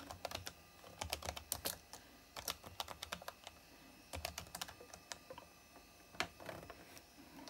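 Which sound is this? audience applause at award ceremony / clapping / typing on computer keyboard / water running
typing on computer keyboard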